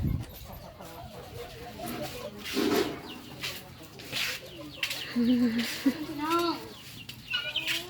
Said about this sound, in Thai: ไก่เพินก็ยังร้ายคือเก่าปลุงเอ้ย